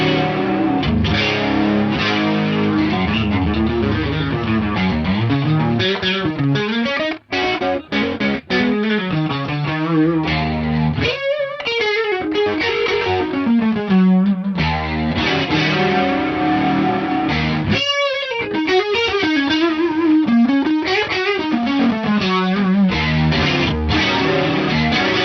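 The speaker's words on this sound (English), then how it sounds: "let's bring in the mighty Eventide H3500 for some stereo detune" Distorted electric guitar through an Origin Effects RD Compact Hot Rod playing sustained chords and melodic lines, with a wide, shimmering, slightly detuned stereo doubling effect from an Eventide H3500 throughout.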